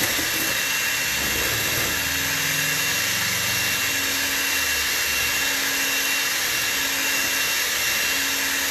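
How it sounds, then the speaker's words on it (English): An electric mixer whips egg whites for protein cookies, giving a steady loud whirring drone that runs unbroken and close, with no voices. "you'll see that the egg whites are fluffing and fluffing and fluffing"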